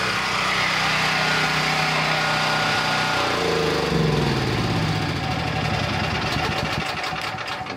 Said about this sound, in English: So let's go ahead and shut our gen set down.